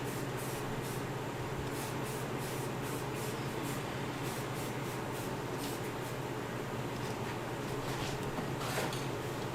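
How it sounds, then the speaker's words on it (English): An aerosol spray can hisses steadily while black paint goes onto the foam inside a mask mouth and its teeth, with short repeated bursts over a constant low hum. "I'm glad you peeled all that paint off before you spray painted those teeth black"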